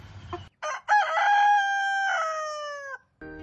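A rooster among Black Australorp and Rhode Island Red chickens crows close and loud, one long drawn-out call after a few short clucks, with brief farmyard noise at the edges.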